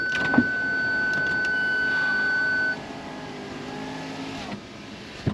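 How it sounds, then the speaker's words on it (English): An electric power window on a Range Rover Sport L320 hums steadily as it rises for about two and a half seconds, then stops, leaving a quieter cabin background with a couple of faint clicks. "I'll put the window up as well, it's a bit windy"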